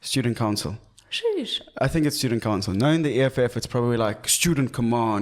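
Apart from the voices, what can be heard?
No distinct noise like a dog, phone or traffic.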